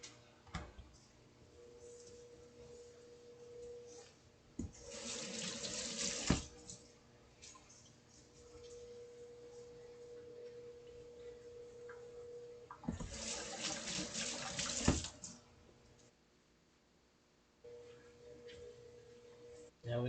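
Dishes are washed at a kitchen sink with soap, with two louder bursts of running tap water over a quiet background of faint clinks and ticking, heard close with no talking.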